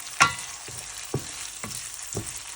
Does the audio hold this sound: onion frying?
yes